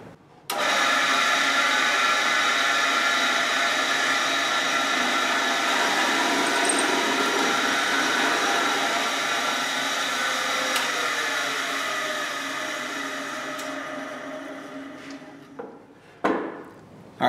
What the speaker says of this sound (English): make sure that it lines up exactly perfectly right before I drill the hole